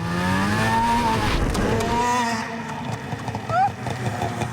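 Snowmobile engine revving hard at full throttle after being sunk in a lake, a loud rising and falling motor roar with shifting pitch, close by and mixed with excited talking.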